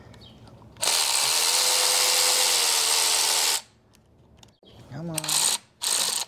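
A ratchet clicks loudly for about three seconds as the last bolts come off an abandoned 1993 Cummins, then a few shorter bursts of cranking follow after a brief pause, with a man muttering between them.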